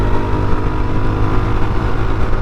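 A Yezdi Scrambler motorcycle engine pulls hard after a gear shift. Its loud, close exhaust drone holds steady under rushing wind across the whole stretch, with no voices.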